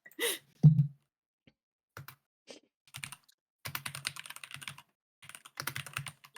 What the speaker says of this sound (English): I can hear some very aggressive typing.